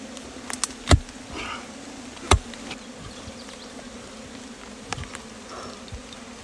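Bees buzz around a honey nest dug out of a shallow earth hole among tree roots, a steady drone with louder thumps and cutting knocks now and then.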